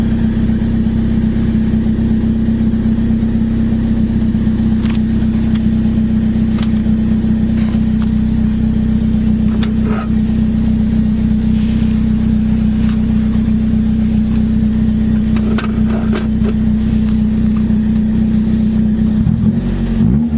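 A Toyota Corolla engine idles while warming up, a loud steady low hum held without a break, with small clicks and knocks near the end.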